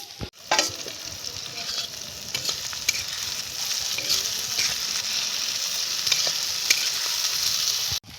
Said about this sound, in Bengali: পেঁয়াজগুলোর সাথে আমরা কিন্তু ভাত করলা গিলাও ভাজি নেব।